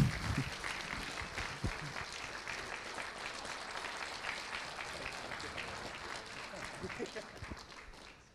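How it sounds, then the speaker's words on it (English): Live debate audience breaks into steady applause that fills the room for several seconds, gradually fading toward the end, with some voices mixed in. "now you may applause"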